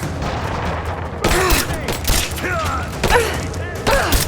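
Gunfire erupts in Rise of the Tomb Raider as several loud bursts and shots crack out over a rumbling, chaotic backdrop, with shouting voices mixed in.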